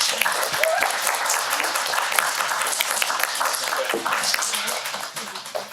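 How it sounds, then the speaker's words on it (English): An audience applauds candidates at a student union question-time event, a dense continuous patter of many hands clapping that gradually softens toward the end. "Let's give some applause to them."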